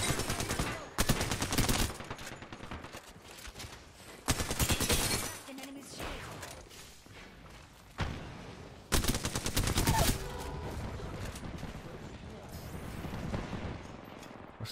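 Automatic gunfire from a gun in the video game Apex Legends, rapid loud bursts in several separate stretches with short pauses between, amid busy game noise, with a voice talking at times.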